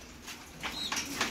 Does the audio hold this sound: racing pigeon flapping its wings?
yes